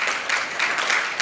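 Audience applause at a Social Shake-Up 2014 keynote talk, a steady wash of many hands clapping in the room, fairly loud and continuous throughout with no talk over it.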